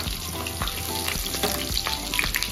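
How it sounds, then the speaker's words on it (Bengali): Whole spices dropped into hot mustard oil for a Bengali-style chicken masala curry, crackling and sizzling densely and close with scattered pops throughout, no talk. "তেলটা গরম হয়ে গেছে, আমি এখন এই মশলাগুলোকে দিয়ে দিচ্ছি"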